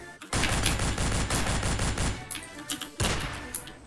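Rapid automatic gunfire from the action video game Madness Deathwish 2, a loud continuous burst of shots that breaks off, then resumes after a brief pause, with no talking.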